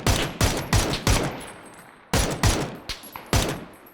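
Gunfire in the battle royale game PUBG: loud bursts of rapid shots in two clusters with a short pause between, each crack sharp and booming, followed by a few scattered single shots that fade away.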